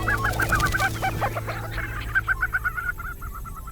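Lesser prairie chickens calling on ranch prairie, a series of rapid clucking, cackling notes in quick bursts over a low steady background rumble, moderately close with no talking.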